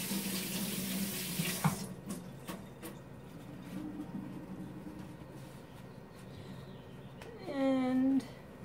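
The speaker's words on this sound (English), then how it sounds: "Quick wash of the hands." A kitchen tap runs loudly at first while hands are quickly washed, then shuts off, leaving faint clinks and handling sounds, with a brief squeaky rise near the end.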